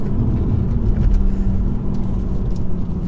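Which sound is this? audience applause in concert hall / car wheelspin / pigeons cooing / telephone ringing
car wheelspin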